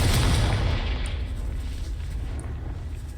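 Explosion from the Confringo spell in Hogwarts Legacy, a loud booming burst at the start that decays into a lingering rumbling tail, with a couple of faint crackles afterward.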